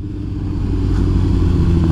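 Honda CBR1000RR sportbike ridden through snow, its engine a steady loud rumble with low mechanical drone held at constant revs throughout, close to the rider.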